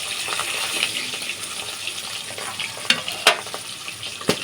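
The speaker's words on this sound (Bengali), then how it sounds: "মাছটা সুন্দর করে ভেজে নেব" Fish sizzling in hot oil in a pan, a continuous crackling fry with sharper pops and spatters near the end, close and fairly loud with no talking.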